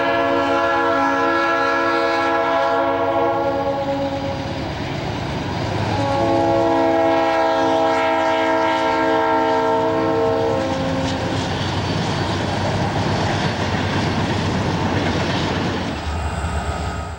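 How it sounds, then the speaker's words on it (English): An eastbound freight grain train led by a C40-8 with Norfolk Southern SD60 and C40-9W locomotives rumbles past at Roseville, its horn sounding in long loud blasts over steady wheel clatter and engine drone. "Some foreign power on this eastbound grain train, as the C40-8 leads a Norfolk Southern SD60"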